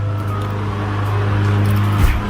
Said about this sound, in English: My neighbor's cutting the grass.